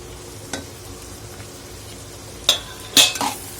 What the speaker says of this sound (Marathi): आणि तुरीच्या डाळीलाही परतवून घेणार आहोत